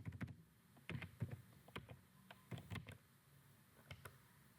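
Keys on a computer keyboard tapped in short bursts as a four-digit number is entered into warehouse software, the clicks close and clear with brief pauses between groups.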